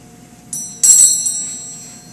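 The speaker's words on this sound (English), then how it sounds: "the doorbell" An electronic doorbell chimes twice, bright and ringing, the second tone louder and fading slowly over a low steady hum.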